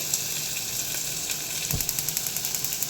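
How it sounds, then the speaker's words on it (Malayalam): Shallots sautéing in oil for mutton curry, making a steady, close sizzle with one dull knock and a quick run of light rhythmic clicks near the end. "നമുക്ക് ചുവന്നുള്ളി നന്നായിട്ട് വഴറ്റി കൊടുക്കാം"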